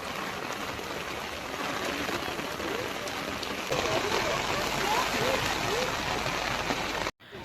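Steady heavy rain hisses across the whole clip, a dense wash of drops with faint voices underneath, heard aboard a boat, cutting off abruptly near the end.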